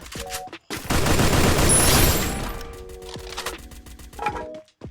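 A loud burst of rapid gunfire in the battle-royale game Free Fire lasts about a second and a half, bracketed by a few sharp single shots and clicks, with a voice talking before and after.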